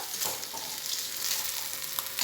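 Spices frying in a hot pan give a steady, dense sizzle close up, with a few faint stirring scrapes over about two seconds and no talking.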